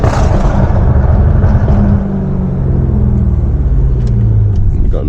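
A tuned 640 hp BMW M550i V8 pulls hard at night, heard from the cabin as a loud, deep exhaust roar with rising engine pitch, steady and close throughout.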